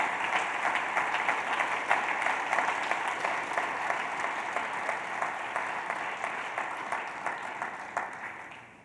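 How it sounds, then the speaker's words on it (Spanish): Congregation applauding in a church, a dense, steady wash of clapping from many hands that carries on evenly and tapers off at the very end. "Denle un aplauso a Pablo otra vez."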